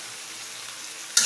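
Meat frying with spices in a pan, a steady, close broadband sizzle that holds evenly throughout, ending in a sudden louder burst as more goes in or the mix is stirred.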